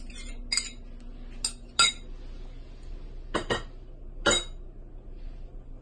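Spinach, black pepper and salt are added to a rice and tuna mixture, giving a few sharp, separate clinks of a spoon against a bowl over a quiet background.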